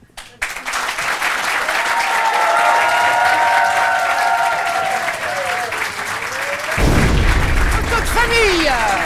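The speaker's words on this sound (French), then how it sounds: "Donc je vais vous faire applaudir doublement." An audience claps for performers, sustained, loud applause filling the room, with a voice briefly talking over it and a burst of louder clapping near the end.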